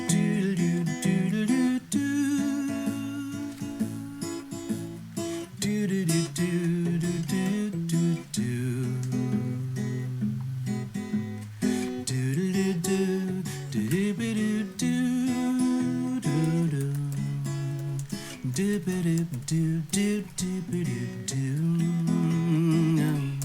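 Recorded song playing steadily throughout, a dense full mix with sustained melodic lines and continuous instrumentation at even loudness, no talk over it.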